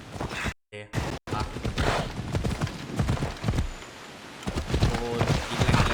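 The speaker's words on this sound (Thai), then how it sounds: "เรียกม้าส่วนตัวมา Let's go, Phobos!" Hooves of a horse in Assassin's Creed Odyssey clip-clop in a steady galloping rhythm, close and fairly loud, after a brief break at the start, with game ambience mixed in.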